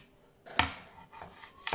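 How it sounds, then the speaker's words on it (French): A knife cuts meat into cubes on a cutting board: a few sharp, close chops are spaced irregularly, with quiet pauses between them and no talk. "maintenant, on coupe"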